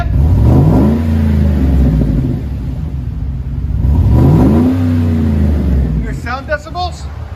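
A 2007 Chevy Suburban with a 5.3L V8 and Magnaflow exhaust revs twice, each rev rising in a deep rumble and falling back to a steady idle, close and loud, with brief voices near the end.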